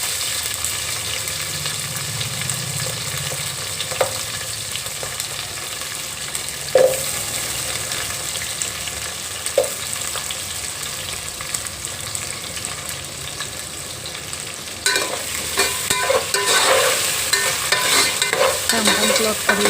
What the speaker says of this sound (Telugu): కొంచెం వేగిన తర్వాత పచ్చిమిరపకాయలు వేసుకున్నాను. ఇంకా ముక్కలు వేసుకుని మొత్తం అన్ని వెజిటేబుల్ కూడా వేసుకుని మొత్తం వేసుకుంటున్నానండి.